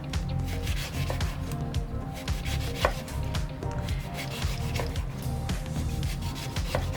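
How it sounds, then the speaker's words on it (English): A knife cuts through grapefruit on a board, with rapid, continuous close rubbing and chopping strokes for a fruit platter, no voices. "A few little slices of grapefruit for this."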